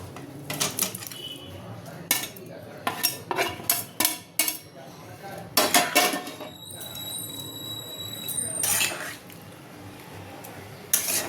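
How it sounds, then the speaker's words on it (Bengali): Fried rohu fish roe is tipped into a pot of curry, with clattering spoon-and-pan clinks in quick irregular bursts and a brief stir, as a voice speaks faintly in the background. "এবার আমি ডিম ডিমগুলো দিয়ে দেবো ভাজা ডিমগুলো দিয়ে দেবো"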